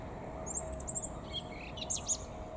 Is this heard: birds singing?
yes